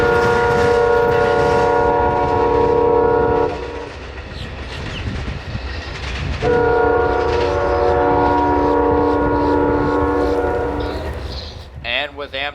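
An Amtrak train rolls past a station platform near a rail diamond, its loud sustained horn chord sounding in long blasts with a brief gap, over rumbling wheels and rail noise, close and loud throughout.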